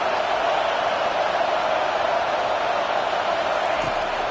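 Dense, steady stadium crowd roar at a college football game between Michigan and Florida, a continuous wash of massed voices holding level throughout with no single sound standing out.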